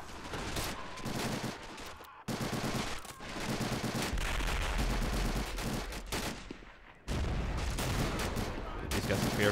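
Sustained M1 Garand rifle fire from Rangers in a World War II Pointe du Hoc video game battle, dense overlapping shots and explosions rolling on loudly with brief lulls, no talking.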